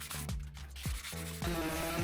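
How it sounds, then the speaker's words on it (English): A sanding block worked by hand over the A-pillar of a Porsche 996 body being converted to GT3 RS bodywork, giving close, steady rasping strokes with brief gaps between passes. "You can see me sanding and then I'm feeling with my fingers to feel for any ridges."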